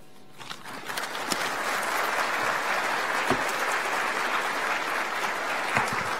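An audience at an education awards ceremony breaks into applause, and dense, loud clapping from a large crowd swells quickly and holds steady to the end.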